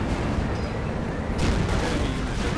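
Continuous dense artillery barrage in a World War II strategy video game, a steady roar of overlapping booms and rumbling blasts, loud and unbroken throughout.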